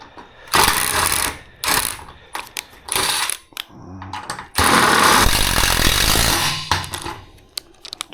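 A power driver sets screws into existing holes in Wayne Dalton garage door parts, giving loud close bursts of whirring and ratcheting separated by short gaps, ending in a longer sustained run.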